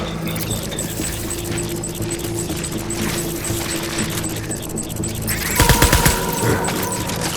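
Gunfire in Death Stranding against a steady rumbling backdrop, building to a short, louder cluster of rapid shots near the end.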